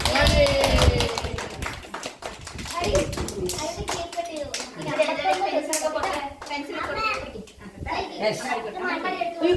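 Many hands clap in quick, uneven bursts after a birthday song while children and adults chatter and cheer nearby.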